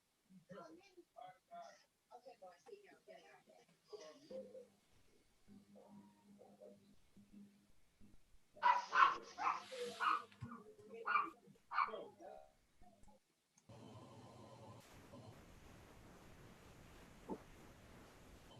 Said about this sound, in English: that wasn't my dog barking